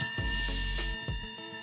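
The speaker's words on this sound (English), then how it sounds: "upon completion, a chime signals the end of the set time" A timer chime from a room gadget styled like an hourglass marks the end of the set time, with a bright, sustained bell-like tone ringing in repeated strikes over a low hum.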